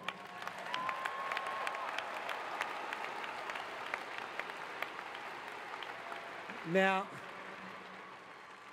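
A ceremony audience applauds in a dense, even patter that runs on for several seconds, then a voice briefly speaks near the end as the clapping continues.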